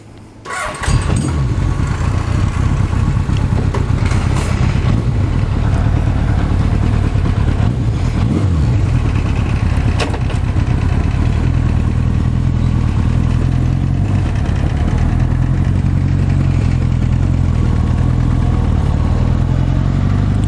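A 1980 Honda CB900 motorcycle engine starts and runs on a test ride, a loud steady close-up rumble that holds throughout with slight revving changes.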